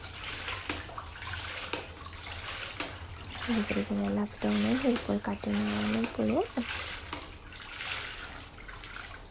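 Water is poured and splashed in a basin while a baby's head is washed, a steady wet pouring close by that runs under someone speaking throughout.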